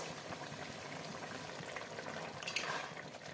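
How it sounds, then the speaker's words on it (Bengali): Hot water is poured into a pan of fried spices, a faint steady bubbling and liquid rush that swells briefly near the end, heard alone. "দিয়ে দেবো গরম জল, ঢাকনা বন্ধ করে সেদ্ধ হতে দেবো।"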